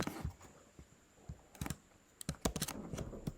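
Computer keyboard typing a prompt for a chat program: irregular bursts of sharp, close key clicks, with a dense cluster near the start, a short run in the middle and a rapid flurry at the end, no talking.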